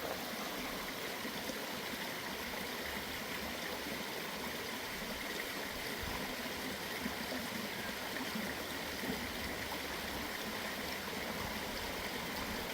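Ashland Creek flows through Lithia Park in a steady, broadband rush of running water, continuous and fairly close, with no voices over the even stream noise.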